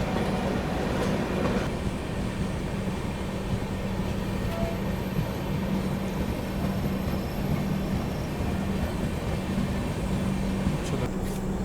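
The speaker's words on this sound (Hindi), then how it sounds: "ये जा रही है आप लोगों की न्यू दिल्ली इस्लामपुर मगध एक्सप्रेस" The New Delhi–Islampur Magadh Express rolls past a railway crossing, its steady rumble and wheel clatter holding at an even, moderate level throughout, with a faint squeal of wheels now and then.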